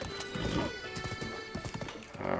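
Horse hooves clip-clopping at a quick gallop in Zelda: Breath of the Wild, a rapid rhythmic patter of hoofbeats with a brief whinny-like tone near the end, close and clear.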